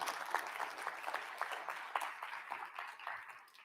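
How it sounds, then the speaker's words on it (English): School administrators at a keynote and awards session clap for themselves, producing a faint, scattered patter of hand claps with some distinct individual strikes that taper off. "Round of applause for yourself"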